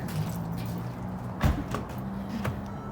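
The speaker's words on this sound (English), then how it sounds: "Shut Ridley's door since she's being disobedient" A Mercedes-Benz GLE car door is shut with a single soft thud partway through, followed by a couple of lighter knocks against a quiet background hum.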